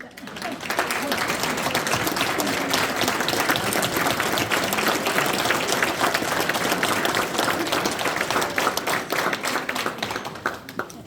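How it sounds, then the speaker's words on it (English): A room of attendees at a local swearing-in ceremony in Stafford, Connecticut, claps for the officials' family members in a dense, sustained round of applause lasting about eleven seconds, with no talking. "give you all a round of applause"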